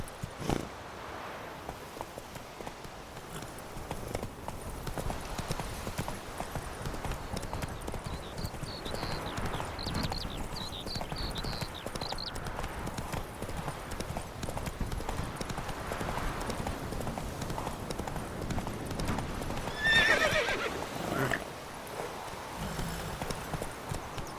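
In The Witcher 3 video game, the horse Roach trots with steady, rhythmic hoof clip-clops that continue for over twenty seconds.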